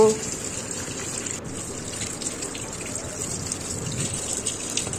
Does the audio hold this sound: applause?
no